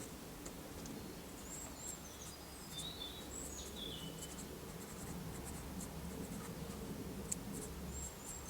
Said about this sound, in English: Write a label for that.